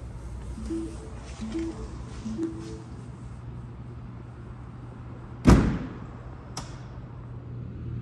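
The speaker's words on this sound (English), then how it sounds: "we'll go ahead and pop the trunk to show you guys the trunk size" On a 2022 Lincoln Nautilus Reserve, the trunk releases with a sharp, close thump, then a softer click follows about a second later, after a few faint beeps over a low idle hum.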